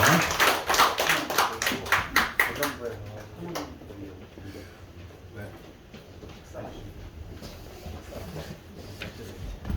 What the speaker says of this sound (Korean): 수고하신 분들에게 박수 한번 쳐주세요